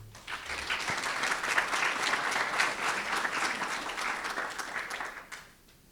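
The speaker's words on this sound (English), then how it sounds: "Please join me in giving these incredible partners a well-deserved round of applause" An audience at a San Angelo ISD school board meeting applauds in a sustained round of dense clapping, steady and fairly loud for several seconds before fading out at the end.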